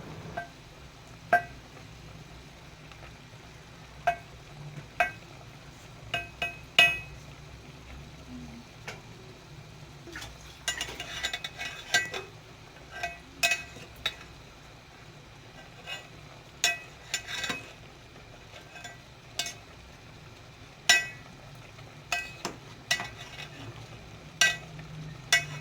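Garlic being stirred into chicken karahi in a pan, a low simmering sizzle under repeated sharp clinks and scrapes of a spoon against the metal, spaced irregularly.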